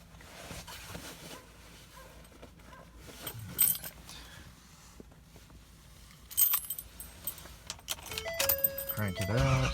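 Keys jangle in short clinking bursts while searching for the key of a 2011 vehicle, followed by louder metallic rattles and a brief electronic chime near the end, with faint speech and low cabin rumble.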